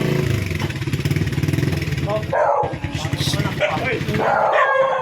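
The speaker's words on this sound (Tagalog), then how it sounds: "Ito po yung aso ko, si Lala." A dog barks and yips in short bursts close by, mixed with people talking over it.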